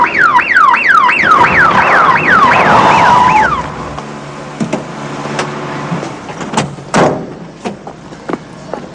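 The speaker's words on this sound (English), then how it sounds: "Oh, it's just an ambulance, Sonny." An ambulance siren wails loud and close with a rapid rising-and-falling pattern for several seconds, then cuts off, leaving sharp knocks and clatter.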